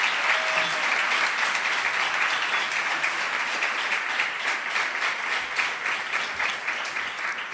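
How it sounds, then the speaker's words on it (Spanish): Sustained applause from a comedy show audience in Seville, steady dense clapping that continues throughout and tapers slightly toward the end. "Aplauso, ¿no?"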